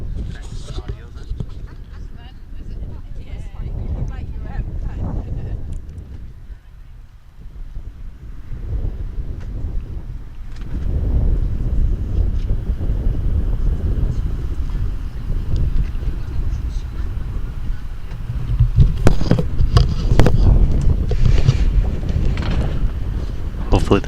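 Wind buffets the microphone at an outdoor under-25s men's finals match, a loud, rumbling low roar that swells and gusts throughout, with voices talking underneath.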